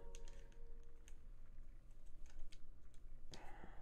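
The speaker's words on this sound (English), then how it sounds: "we're just gonna take these keycaps off" Keycaps being pulled off a Mode Eighty TKL mechanical keyboard, heard as faint, irregular plastic clicks and taps over a low background hum, with a slightly stronger click near the end.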